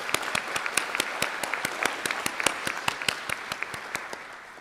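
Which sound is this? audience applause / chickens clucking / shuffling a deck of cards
audience applause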